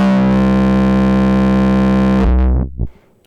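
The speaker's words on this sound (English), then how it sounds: "Just the low pass distortion." A thick, gritty synth drone through an Erica Black low-pass filter with distortion holds steady and loud, then cuts off with a brief wobbling filtered tail before falling silent.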